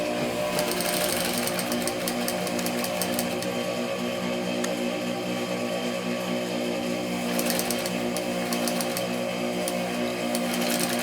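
Sewing machine running steadily up close while stitching a flat-felled seam, with a quick burst of backstitching, a constant mechanical whirr and rattle from start to finish.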